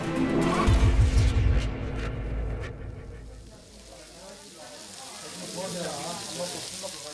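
Fatty Korean pork belly sizzling on a grill plate, a loud crackling fry at first that eases into a softer steady sizzle.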